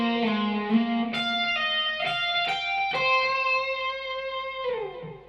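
Electric guitar plays the Airplay 'It Will Be Alright' solo lick slowly, a clean, effected tone with a bent opening note followed by distinct picked notes, close and alone.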